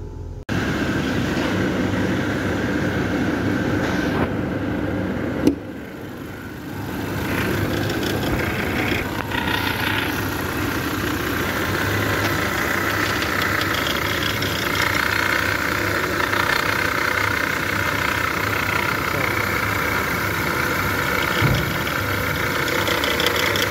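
A 2017 Ford Explorer 2.3L engine idles with a steady, loud, broadband mechanical drone and a fairly constant whine, unbroken for the whole stretch, with no talking over it.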